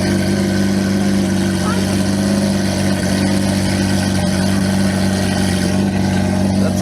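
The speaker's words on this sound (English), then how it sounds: "Aventador starting up" A Lamborghini Aventador fitted with an FI exhaust starts up at a car meet, its deep engine rumble holding loud and steady nearby while people talk in the background.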